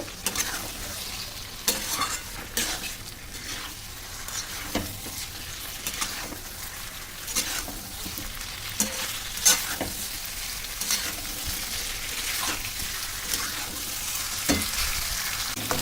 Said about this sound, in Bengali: চিকেনগুলো ঢেলে দিয়ে দেবো, দিয়ে ভালো করে কষিয়ে কষিয়ে নেব